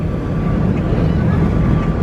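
A ferry on the Fort Fisher to Southport, North Carolina crossing pulls away from the dock, its low diesel rumble droning steadily beneath gusty wind noise on the microphone.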